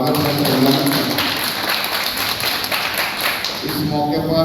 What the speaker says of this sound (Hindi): सबसे पहले जोरदार ताली बजा के इनका स्वागत करते।